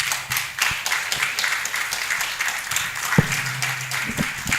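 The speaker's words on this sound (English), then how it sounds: "help me welcome Frederick Emisa with a round of applause" Audience applause welcoming Frederick Emisa to the stage at the 77th Annual New Year School and Conference, a dense steady wash of many hands clapping in a large hall, loud and continuous throughout.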